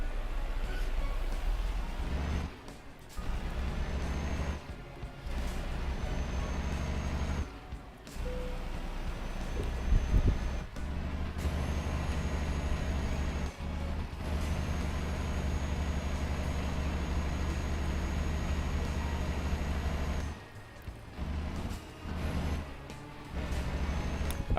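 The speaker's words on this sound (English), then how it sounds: "I feel like it's made the sound of the lorry different as well." A heavy lorry engine in Euro Truck Simulator 2 drones steadily with low rumble, dropping briefly a few times as if shifting gears, continuous and fairly loud throughout.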